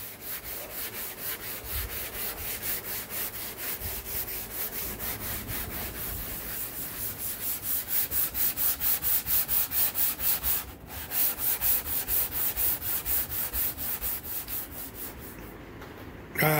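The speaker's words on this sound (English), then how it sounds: "So I'm gonna have to go back in with a thin coat of body filler and block it back out." Block sanding body filler on the roof of a boxy Chevy truck, a steady rhythmic rasp of back-and-forth strokes, loud and close, continuing with a brief pause near the end.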